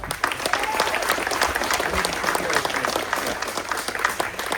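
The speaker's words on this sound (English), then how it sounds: "Let's give them a round of applause." Applause greets the Washington County delegation at a ribbon cutting for a Maryland wine house, continuous crowd clapping at a steady level, with faint voices mixed in underneath.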